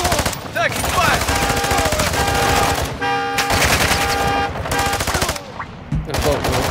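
Machine gun fire in a video game comes in loud, rapid bursts and sustained volleys, with scattered gunshots and game sounds around them.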